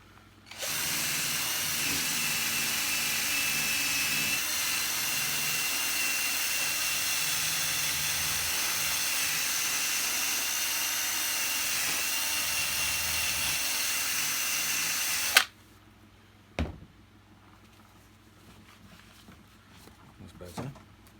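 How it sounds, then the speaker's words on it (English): A handheld polisher buffs watermarks off a Miele vacuum mattress tool, running as a loud, steady high-pitched whine for about fifteen seconds before cutting off abruptly, followed by a couple of sharp clicks and handling knocks. "Let me get my polisher on it just to get rid of them."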